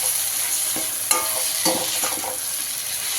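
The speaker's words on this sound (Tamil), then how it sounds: "இது அப்படியே வதங்கட்டும்" Onions and tomatoes are frying in a pan for fish gravy. They sizzle steadily and close by, broken by a few soft stirring scrapes.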